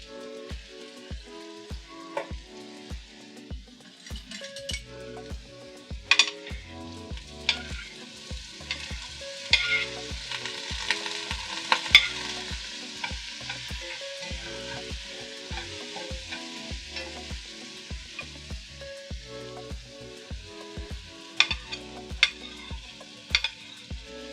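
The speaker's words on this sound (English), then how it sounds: "Back burner, I've got some butter going. We're going to give these a saute in the back." Butter sizzles as Swedish meatballs saute in a pan on a back burner, a soft continuous fry under a run of rhythmic tapping and scraping from stirring, moderately quiet throughout.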